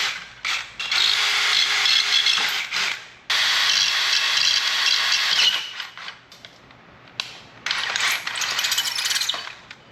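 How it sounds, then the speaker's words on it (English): A drill bores out old rivets on a 1959 Allis-Chalmers D-17 tractor under restoration, in several loud grinding bursts separated by short pauses, close up and with no talking. "I'm gonna drill these out"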